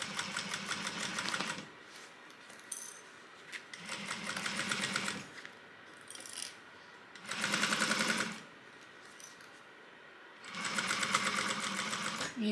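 A sewing machine runs four separate bursts down a 3/8-inch seam allowance, each a steady rapid whir lasting a second or two with quiet gaps between, close and clear with no talking.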